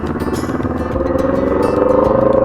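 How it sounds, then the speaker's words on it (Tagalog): A motorcycle engine revs under a helmet-mounted mic during a motovlog ride, a loud, steady droning whine that climbs in pitch across a couple of seconds with a buzzing, harmonic-rich tone. "all I hear was my motorcycle revving"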